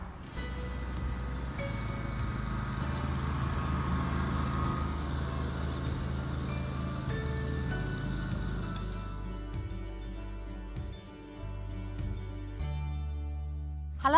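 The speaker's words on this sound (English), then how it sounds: "is mowing the lawn with his ride-on mower" A ride-on lawn mower drones steadily in the background, a low continuous engine rumble that holds for most of the stretch before easing slightly near the end, with no talking over it.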